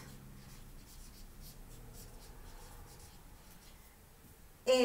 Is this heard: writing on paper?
yes